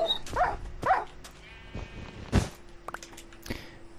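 Sheep in the video game Minecraft bleat in short wavering calls, two close together at the start, then sparser game sounds and clicks, moderately loud and near, with no talking.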